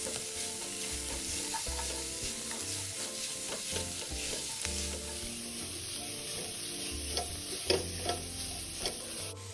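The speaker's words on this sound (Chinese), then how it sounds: "加入肉末，用锅铲压散，再炒到变色" Minced pork stir-fried in a wok, a spatula scraping and pressing the meat with steady rhythmic clanks over a continuous close sizzle, with no voices.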